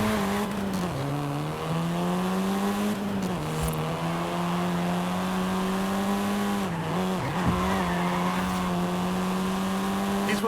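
A 7th-generation Volkswagen Golf R in Forza Horizon 5 holds a steady, loud engine drone with shifting pitch, dipping and rising through gear changes and throttle lifts, with brief tire squeal, continuous throughout with no talk.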